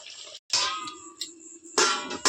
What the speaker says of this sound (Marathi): ताटामध्ये पाणी टाकून घेऊया